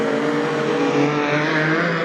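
Modified sedan race cars roar around a hairpin corner at Gympie Speedway during a final, a loud continuous blend of several engines with steady droning pitch, no talk.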